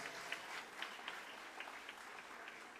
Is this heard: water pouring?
no